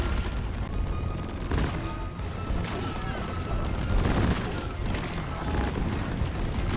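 Heavy weapons fire in the video game Deep Rock Galactic, with the Lok-1 smart rifle shooting hyper-propellant rounds: dense, continuous booming blasts and crackling gunfire amid a roaring, noisy battle, with little talk.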